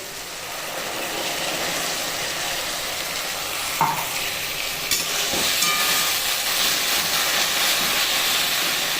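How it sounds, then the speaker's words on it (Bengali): Chopped onion and tomato fry for khichdi in a pan, giving a steady loud sizzle and hiss throughout with a couple of brief stirring scrapes. "পেঁয়াজ ছেড়ে দিলাম এখন টমেটো দিয়ে দিচ্ছি এটা ভাজা ভাজা হয়ে গেছে"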